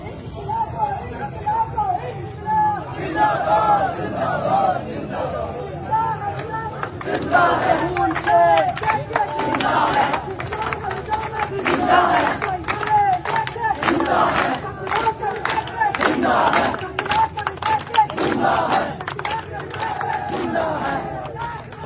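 Protesters at a Kashmir rally chant slogans in rhythmic call-and-response, a loud crowd of voices rising and falling in repeated bursts over a steady hubbub.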